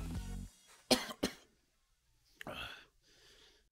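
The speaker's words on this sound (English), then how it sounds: "Where's this coughing coming from?" Several sharp coughs from someone nearby during a Fall Guys gaming session: a cluster of harsh bursts, then a pause, then a longer raspy cough with a breathy tail, loud and close.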